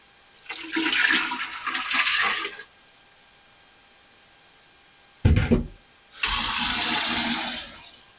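Water runs into a pot in two loud bursts separated by a quiet pause, the second burst preceded by a short clunk, as the pot is filled to boil aquascape rocks.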